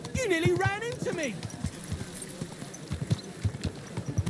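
Game audio from Kingdom Come: Deliverance II: a horse's hooves clop rhythmically on the ground as it moves past, in a steady run of thuds. Someone shouts over the first second, then the hoofbeats continue alone.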